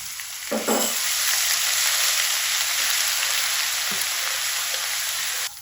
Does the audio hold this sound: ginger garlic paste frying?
yes